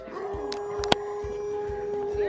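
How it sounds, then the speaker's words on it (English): A dog howls in long, sustained, wavering tones close by, filling the short stretch with one drawn-out cry. "That dog's got a set of lungs on her."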